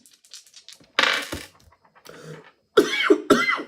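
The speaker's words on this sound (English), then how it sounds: "now I gotta cough my face off" Several harsh coughs in bursts, close and loud, with throat clearing between them and a couple of short pauses.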